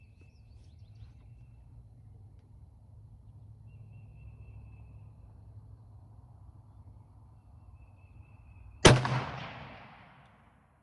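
A single sharp, loud shot from an L42A1 Enfield bolt-action rifle at an outdoor range cracks out after a long quiet stretch of low background hum, then a reverberating tail decays over about two seconds.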